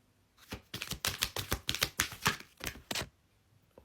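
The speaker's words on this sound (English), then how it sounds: "So I'm going to pull some angel cards for you and see" Angel cards being shuffled by hand: a quick run of close, papery flicks and taps lasting about two and a half seconds, then quiet, with no talking.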